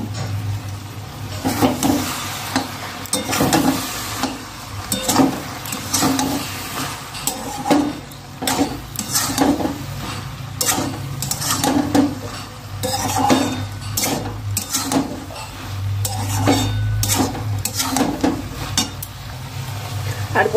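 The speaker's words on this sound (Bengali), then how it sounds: "এরকম একটা ভাজা মশলা যদি দেওয়া যায় সেই তরকারি খেতে দারুণ থেকে দারুণতম হয়ে যাবে" Spices dry-roasting in a pan are stirred with a metal spoon, giving repeated scraping clinks against the pan over a faint sizzle, with intermittent talk in the background.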